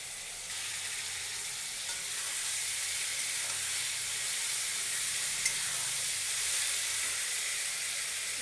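Raw amudi fish cooking into a curry in a pan, a steady broad hiss of sizzling oil that holds for several seconds at a moderate, close level with no voices.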